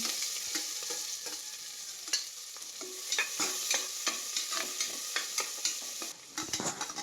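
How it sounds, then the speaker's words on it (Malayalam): Onions being sautéed in ghee inside a cooker, a steady close frying sizzle with repeated scraping stir strokes throughout, no voices. "അതിലേക്ക് ഞാൻ ആവശ്യത്തിന് മുറിച്ച് വെച്ച ഉള്ളി ഇട്ട് വഴറ്റി നല്ലതായിട്ട്"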